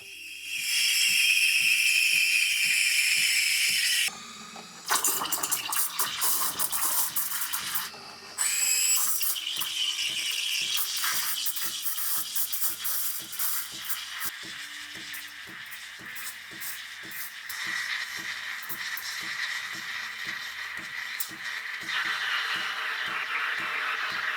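Steady airy hiss of a DeLonghi Magnifica S espresso machine's steam wand in milk, loud at first, then a brief break and a softer, rippling hiss with faint rhythmic ticks underneath.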